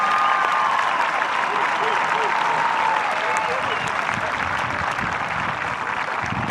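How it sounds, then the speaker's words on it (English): A crowd at the Lake Fenton High School 2022 commencement ceremony applauds the graduating seniors. The clapping is loud and sustained from start to finish, and a few faint voices or cheers sit within it. "Please join me in giving our seniors a round of applause for all of their accomplishments"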